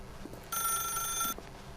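A telephone in The Stanley Parable video game rings once, a bright electronic bell tone lasting under a second, clear over a quiet ambient room background.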